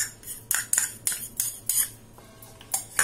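A spoon scrapes and clinks against a bowl while mixing yogurt batter for tandoori chicken malai tikka, a series of sharp rhythmic taps and scrapes close by, with no voices.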